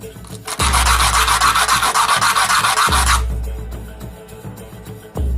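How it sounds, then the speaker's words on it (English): Sanding with 80 grit sandpaper on a 1946 Dodge Power Wagon RC wrecker model headlight part, heard as a loud, close, continuous rubbing scrape lasting a few seconds, followed by fainter handling noises and a soft knock. "But now what I'll do is I'll sand those both. Try to true them up a little bit."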